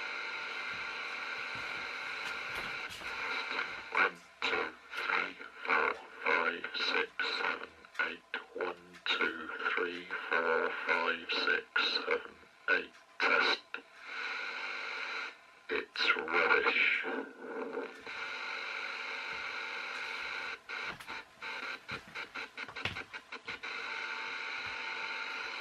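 Static from an FM wireless microphone module receiver sitting in a room corner: a steady, fairly quiet broadband hiss broken by choppy, crackling bursts and dropouts that sound like garbled radio interference.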